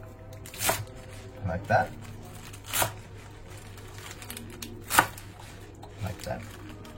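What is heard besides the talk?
cutting off the hard part of food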